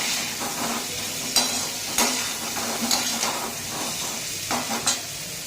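Baby potatoes roast in oil in a pan, a steady moderate sizzle broken by several sharp scrapes and knocks as they are stirred around.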